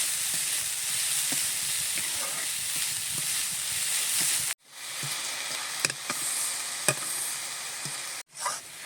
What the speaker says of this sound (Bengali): একদম সামান্য লবণ দিয়ে নাড়াচাড়া করতে করতে বন্ধুরা একদম কিন্তু চিনিগুলো গলে যাবে আর নারকেলটাও সেদ্ধ হয়ে যাবে।